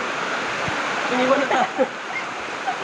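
A river flows with a steady broadband rush while a person talks over it and other voices call out faintly nearby.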